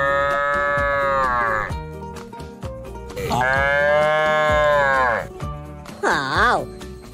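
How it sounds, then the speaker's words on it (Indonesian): A toy calf moos in three loud, drawn-out electronic calls with rising and falling pitch, close up, amid playing with toy trucks and an animal transport truck. "Di sini ada anak sapi."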